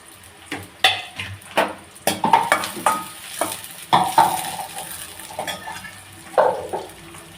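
Onion browning in oil for a batani curry masala is stirred in a pan, with a constant sizzle under repeated rhythmic scraping and clinking strokes of a spoon against the metal.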